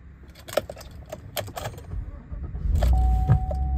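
A single car key for a Chevy Suburban LT 4x4 jingles and clicks in a few brief, close metallic bursts, with a low rumble building underneath toward the end.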